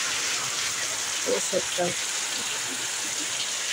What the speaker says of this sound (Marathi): भायर पावस काय थारपाचो नांव घेयना